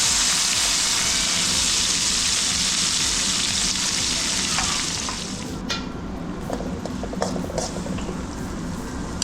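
Chopped onion fries in hot oil with asafoetida and turmeric for daal palak, making a loud, steady, close sizzle that eases slightly partway through, with a few faint clicks.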